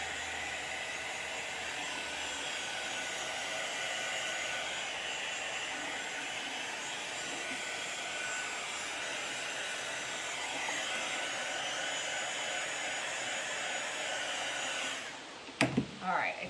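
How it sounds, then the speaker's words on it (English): Heat tool used on a painted craft project, blowing hot air in a steady, continuous whoosh like a hair dryer that runs unbroken, ending with a few handling bumps. "This heat tool is pushing out a lot of heat."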